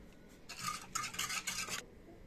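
A spoon stirs a cocoa mixture for chocolate custard in a bowl with a few quick scraping strokes, close and soft, and no talking.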